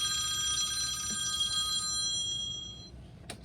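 A mobile phone on charge rings with a bright electronic ringtone, sustained high tones that stop after about three seconds, followed by a brief click, in a quiet room with no talk.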